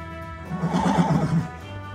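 Horses tethered beside a cowboys' campfire on a Wyoming ranch in the 1880s give one loud, close whinny that rises and falls over about a second and a half, with no talking.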